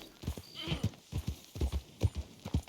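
Horse hooves clopping in irregular bursts of heavy, close thuds in Red Dead Redemption 2, with a brief high whinny-like sound early on.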